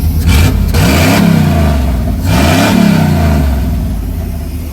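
A Chevy OBS truck engine revs hard twice, rising and falling in loud, close bursts over a steady rumbling idle, with no talking.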